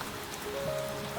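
Steady rain falls during a storm around a treehouse, a continuous soft wash of drops on a surface, fairly faint and even throughout with no voices.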